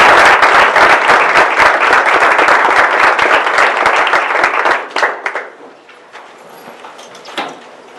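An audience at a school board of education meeting claps for an award winner, a dense burst of applause for about five seconds that thins into a few scattered claps and room noise.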